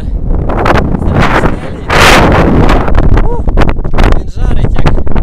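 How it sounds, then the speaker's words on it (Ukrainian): Strong hot wind buffets the microphone outdoors in Oman, producing loud, continuous roaring rumble with gusty surges and a brief lull near the end. "Такий вітер."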